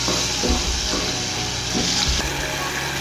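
Masala frying and sizzling in oil for an egg khagina, a steady loud hiss with a few soft stirring scrapes and low thuds of a spoon against the pan.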